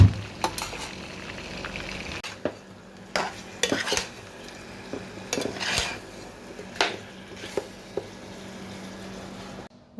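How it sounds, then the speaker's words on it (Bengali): Green chillies frying in a pan, a steady close sizzle broken by sharp clinks and scrapes of a utensil stirring against the metal, with a few louder knocks. "মরিচগুলো ভেজে নিচ্ছি।"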